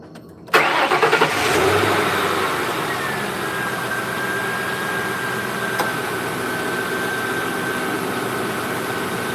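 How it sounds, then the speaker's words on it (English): A car engine cranks and catches after a short silence, then settles into a steady, fairly loud idle that runs on alone with a faint high whine, during a battery charging check. "I need to go back in the car and start it up"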